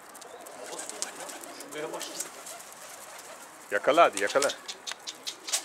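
Pigeons cooing nearby, soft low throaty calls that grow louder and more frequent toward the end, with people talking in the background.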